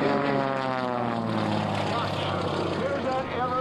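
A Cyclone propeller aerobatic airplane climbs through a tightening spiral at the 2004 Rhode Island Air National Guard open house, giving a steady, loud, droning engine and prop roar with a commentator talking over it.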